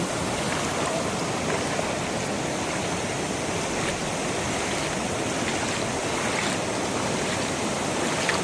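The Narmada River rushes over a rocky stretch in a steady, full-bodied roar of flowing water, close and constant throughout with no voices.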